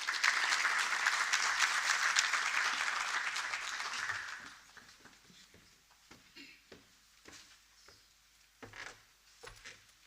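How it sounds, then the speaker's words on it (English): A conference audience claps in steady, dense applause for about four seconds, then it fades away and leaves sparse scattered claps and quiet room noise. "If we can please welcome him with a round of applause."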